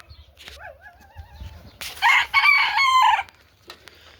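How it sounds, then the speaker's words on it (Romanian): A rooster crows once, a loud, close cock-a-doodle-doo rising and falling over about a second, with quieter bird chirps before it and a calm farmyard hush around. "Uitați și cocoșul acesta."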